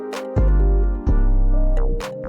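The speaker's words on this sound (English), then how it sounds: "Alright, next I'll just add a clap" Sharp, bright clap hits land near the start and end of a pluggnb beat, over a booming 808 bass and a sustained synth melody in a steady loop.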